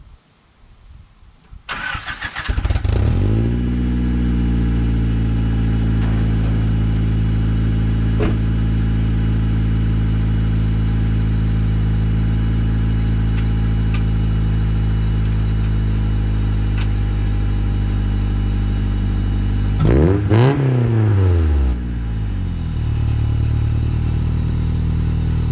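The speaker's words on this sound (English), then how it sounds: "All right, 95 Honda Del Sol. She's got some soul. Hear them pipes?" A 1995 Honda Del Sol with aftermarket exhaust pipes cranks and starts after a short starter whir, settles into a loud, steady idle, then blips the throttle in a quick rev near the end before dropping back.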